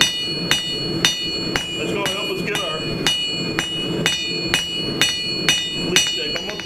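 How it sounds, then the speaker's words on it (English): A blacksmith's hammer rocks back and forth on hot metal while a stylized leaf is forged, ringing out in steady, evenly spaced metallic strikes close by as someone talks over them. "Now, you can see I'm starting to move the hammer,"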